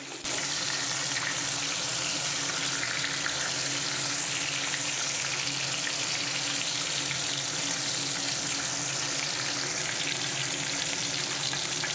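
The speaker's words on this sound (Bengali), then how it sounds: "একটু কড়া করেই ভাজবো আমি মাছটা" Fish heads frying in hot oil for a Bengali lau ghonto, a loud, steady, close sizzle and crackle that continues without a break and with no talk.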